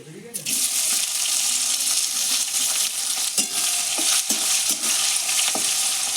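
Chopped onion hits hot oil already tempered with whole garam masala, cardamom, cloves, cinnamon and bay leaf, bursting into a loud, sustained sizzle with intermittent knocks and scrapes of stirring up close.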